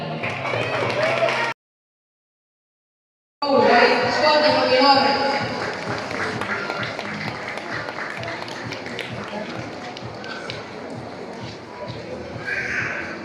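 Applause for the winners at a para sports day held in a university sports hall, with clapping from a crowd rising after a brief gap and continuing steadily under an announcer's voice.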